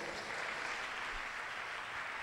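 A church congregation claps together in a faint, steady patter of applause heard from some distance, with no voices over it.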